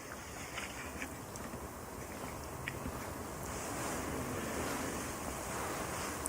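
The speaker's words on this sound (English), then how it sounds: "Wave sound." Ocean surf rolls in a continuous broadband wash with steady wind rumbling across the microphone, swelling slightly louder toward the end, with no voices.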